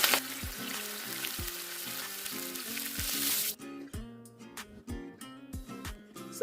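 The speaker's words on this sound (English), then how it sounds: "Let's go ahead and fry the sauce." Sauce for fish nkwobi fries in hot oil with a loud, dense sizzle that cuts off abruptly midway, leaving clinking stirring sounds over a steady, repeating musical backing.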